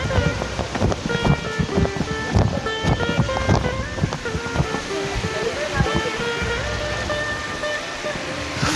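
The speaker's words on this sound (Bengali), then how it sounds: "এখানে যে আওয়াজটা পাচ্ছেন সনসন করে পানির শব্দটা" Rushing river water pours over rocks at Madhabkunda eco park, a loud, constant roar with splashy bursts, and a voice can be heard talking over it.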